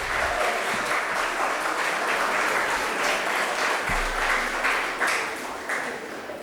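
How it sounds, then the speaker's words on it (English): At a biotech skilling programme session, the audience gives the speaker a round of applause. Sustained, fairly even clapping fills the room and continues for several seconds, with a few louder claps standing out. "Let's hear a huge round of applause"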